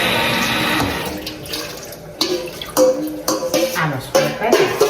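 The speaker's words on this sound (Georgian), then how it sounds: "ცოტა წყალს ვასხავ." Water poured in splashing bursts, a steady gush at first and then uneven pours and drips, loud and close.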